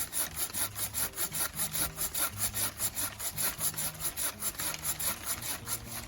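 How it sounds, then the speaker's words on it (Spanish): A hand saw cuts through an apple tree branch during pruning, its strokes rasping back and forth in an even rhythm of about two per second, close and alone. "Estoy con el serrucho y voy a proceder a hacer el corte lo más pegado posible a la rama"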